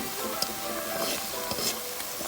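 Food frying in an oiled pan sizzles steadily and loudly, broken by a few sharp scraping clicks as it is stirred, with no speech.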